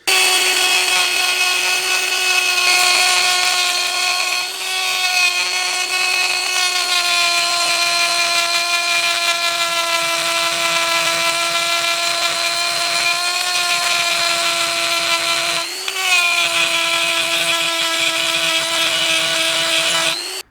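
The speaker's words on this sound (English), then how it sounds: "I can feel little bits of metal hitting my face as I'm using the grinder" Makita GD0600 corded die grinder with a carbide bit cuts into old mild steel once buried in the ground, a loud steady high-pitched whine with a brief dip partway through, continuous and alone.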